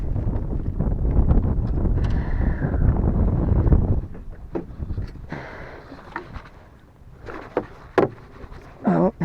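Strong wind buffeting the microphone on a fishing boat out on open water in South Florida, a heavy rumbling roar for the first few seconds that then eases into gusty patches and knocks.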